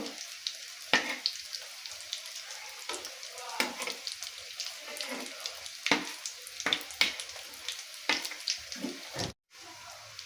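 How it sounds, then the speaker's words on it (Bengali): Loitta (Bombay duck) fish fingers frying in oil in a home kitchen, a steady close sizzle punctuated by sharp crackles and pops as pieces are turned, with no talk. "এগুলো আমার খুব ভালো করে ভাজা হয়ে গেছে"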